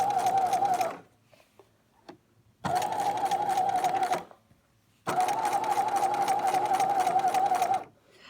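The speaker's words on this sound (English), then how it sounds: "I'm going to go ahead and sew a zigzag stitch with both my flaps together" Zigzag stitching on a sewing machine joining two fabric flaps: three steady bursts of close, buzzing motor whir, separated by short pauses with faint handling clicks.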